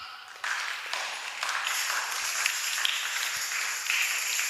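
An audience applauds at a French-language Sunday gathering, a steady wash of clapping rising after a brief lull and holding at moderate loudness without speech.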